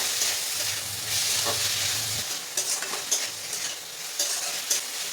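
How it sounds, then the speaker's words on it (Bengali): Chicken mince with turmeric, cumin, chili powder and salt sizzles in a pan while a utensil stirs and scrapes it in irregular strokes, a close, steady frying hiss with sharp clinks over a low hum. "এখন চিকেনটা খুব ভালো করে কষিয়ে নেব।"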